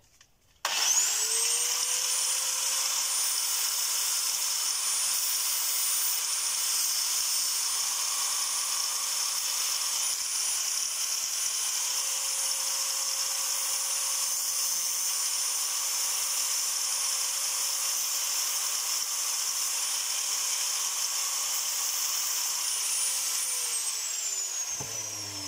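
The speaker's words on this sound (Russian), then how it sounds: "Берем болгарку и немножко пошумим." An angle grinder cutting nail heads whines at a high, steady pitch for over twenty seconds, spinning up at the start and winding down at the end, loud and close.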